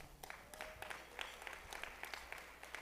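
Faint, distant clapping from a keynote audience at an education rally, a thin patter of scattered claps heard over room noise for a few seconds.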